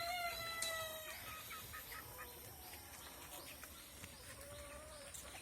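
Local free-range chickens resting under a tree cluck and call softly at a distance, with a brief louder squawk near the start and a faint rustling outdoor background.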